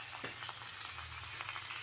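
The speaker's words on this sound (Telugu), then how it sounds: "నూనె వేసుకొని ఇట్లా వేసుకోవాలి కలుపుకోవాలి" Tempering seeds fry in hot oil, giving a steady close hiss and sizzle with faint stirring clinks and no talking.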